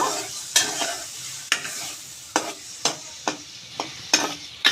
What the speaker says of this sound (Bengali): দিয়ে এখানে আমি তেলের মধ্যে একটু নাড়াচাড়া করে নিব